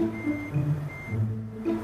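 A Hino truck in Euro Truck Simulator 2 reverses, its backup alarm sounding a few evenly spaced electronic beeps over a low idling engine rumble.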